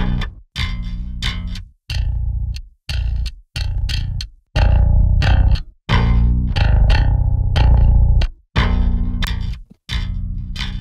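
Heavy, aggressive bass guitar tone pushed through distortion with boosted lows and cranked highs, in a brutal thall style: loud chugging riffs in choppy bursts separated by abrupt stops.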